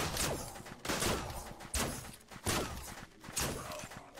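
Rapid gunfire bursts from the shooter game Until None Remain crack out repeatedly, loud and close, in a dense sequence of overlapping shots with short gaps between volleys.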